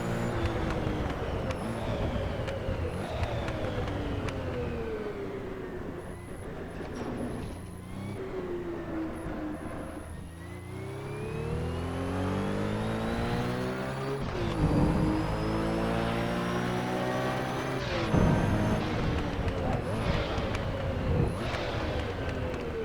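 A Porsche 917K racing engine in Assetto Corsa roars loudly and continuously, its pitch climbing through the gears and blipping sharply upward on downshifts as the revs are matched, with no talk over it.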